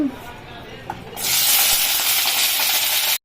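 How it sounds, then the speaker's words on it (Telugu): Green chilies hit hot oil in a pan with a sudden loud, sustained sizzle that stays close and steady for about two seconds before cutting off, after a quieter stretch of background noise. "పచ్చిమిర్చి చూసిరా ఇలా మనకు కలర్ చేంజ్ అయ్యే వరకు కొంచెం వేయించుకోవాలి"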